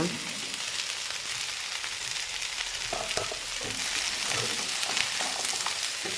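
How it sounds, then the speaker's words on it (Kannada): Ivy gourd and jackfruit seeds fry in a pan, a steady broadband sizzle that holds throughout with a few soft stirring scrapes and knocks near the middle, close and fairly loud, with no talk over it. "ಸ್ವಲ್ಪ ಇದನ್ನು ಫ್ರೈ ಮಾಡಿದರೆ ಸಾಕು"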